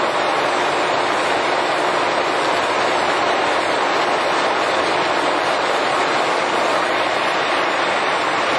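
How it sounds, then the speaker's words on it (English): A Giddings & Lewis 340T heavy-duty horizontal boring, drilling and milling machine runs its spindle at 170 RPM, giving a loud, steady broadband roar that holds unchanged from start to finish. "the first thing we wanted to do is run through the RPM spindle speeds"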